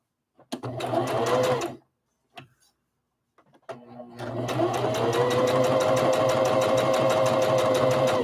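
A sewing machine stitches a rag doll, running in a short burst, then a brief pause and a few taps, then a long steady whirring run close by with no talk.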